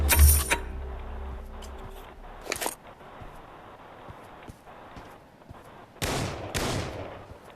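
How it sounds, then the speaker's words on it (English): Gunfire in the VR shooter game Pavlov: a few sharp shots, some in quick bursts, near the start, middle and end, separated by quieter stretches of game ambience. "Already gunfire going on here."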